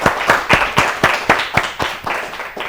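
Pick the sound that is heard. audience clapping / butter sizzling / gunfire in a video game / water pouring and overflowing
audience clapping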